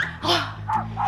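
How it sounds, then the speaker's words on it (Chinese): A dog gives a few quick, close barks and yips in a short burst, each call sharp and separate with brief gaps between them. "只听到狗叫声"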